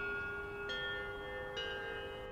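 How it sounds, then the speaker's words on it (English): A school bell rings in a classroom with two sustained, steady electronic tones, the second strike starting partway through and holding to the end, with no talk over it. "That was the bell, but our teacher's not here yet"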